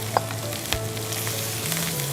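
Parboiled rice frying in a pan for prawn pulao gives a steady close sizzle, with a few sharp clinks of stirring near the start and middle.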